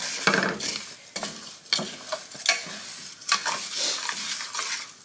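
Rice toasting in a pan for Spanish rice, crackling and sizzling while a utensil stirs and scrapes it in irregular close bursts, with no talking.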